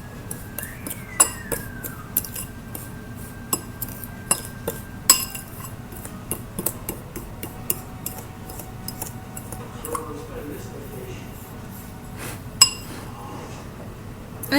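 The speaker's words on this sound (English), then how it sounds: "I'm just going to keep mixing it just to make sure" Lemon batter being mixed in a bowl, with a steady series of sharp clinks and taps as a utensil strikes the bowl at irregular intervals over a low background hum, close and fairly quiet.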